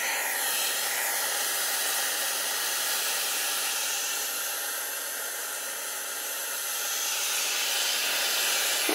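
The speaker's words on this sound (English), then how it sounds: "So, heat it up with the blowtorch here a little bit." A blowtorch heating a Stirling engine gives a steady close roaring hiss that holds for the whole stretch, slightly easing mid-way, with no talk.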